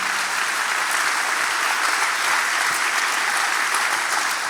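Congregation at a Christian worship service applauding, a dense, steady wash of many hands clapping that holds at even loudness throughout with no talking over it.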